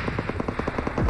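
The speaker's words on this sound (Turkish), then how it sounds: "Helikopter geldi lan. Helikopter üstümüzde." Rapid rhythmic chopping of a helicopter's rotor overhead in PUBG Mobile, a quick burst of repeated thumps lasting about a second, close and loud with no speech.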